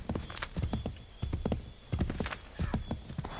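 Hoofbeats of a horse in the video game Assassin's Creed III, a quick clip-clop rhythm in bursts close up, with pauses between runs.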